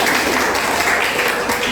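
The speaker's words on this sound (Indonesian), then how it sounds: "Kita tepuk tangan sekali lagi." Classroom audience clapping for a student team after their presentation, a short burst of steady, fairly loud applause filling the room.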